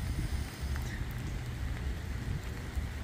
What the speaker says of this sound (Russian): идет дождь, не останавливаясь